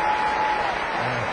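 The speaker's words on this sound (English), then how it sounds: "Round of applause for the first player taken in the 2001 National Hockey League entry draft." A crowd at the 2001 NHL Entry Draft in Sunrise, Florida claps in a steady, dense wash of applause, continuous and moderately loud throughout the short stretch.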